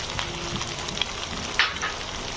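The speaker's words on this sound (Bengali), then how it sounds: "দিয়ে দিচ্ছি টমেটোগুলো, আর কিছু পেঁয়াজ আমি একটু বড় বড় করে কেটে রেখেছিলাম, সেই পেঁয়াজগুলোও দিয়ে দিচ্ছি" Tomatoes and chopped onions frying in a pan for a chicken pasta dish, a steady soft sizzle with a few faint clicks of stirring, no voices.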